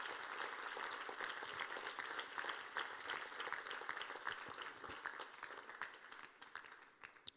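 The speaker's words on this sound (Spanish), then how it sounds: "¿Qué tal si le damos un fuerte aplauso a Jesús?" Congregation applause during a church faith class, a sustained crowd of clapping lasting over seven seconds, quiet overall but steady, with a few sharper individual claps near the end.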